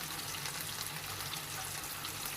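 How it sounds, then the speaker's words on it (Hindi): Water poured into steak sauce cooking in a pan, a steady soft hiss and trickle of liquid with a sizzling bed of frying underneath, continuous and fairly quiet with no talking. "मैं इसके अंदर शामिल करूँगी थोड़ा सा पानी"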